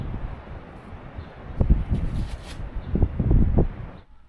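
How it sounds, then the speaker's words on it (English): A chilly wind blows over a coastal barbecue and seating area at Bucalemu, Chile, buffeting the microphone in low rumbling gusts that swell and fade over a few seconds. "The wind is quite chilly today"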